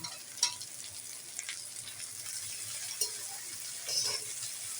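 Capsicum is stir-fried with vegetables in a pan while making fried rice, giving a steady close sizzle with scraping stirring strokes and a few light clinks. No voices are heard.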